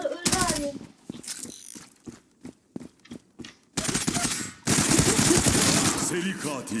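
Rapid bursts of M4 rifle fire in the online shooter Zula, first a long burst and then a string of short separated shots before heavy sustained firing, close and loud, with a voice talking over parts of it.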